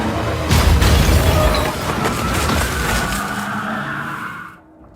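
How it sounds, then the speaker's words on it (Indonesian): In a film car chase, a big truck smashes into a car convoy with loud tire skids, a heavy crash and roaring engines that thunder close and continuous before cutting off abruptly. "Sebuah truk besar menghantam konvoi mobil milik Martin."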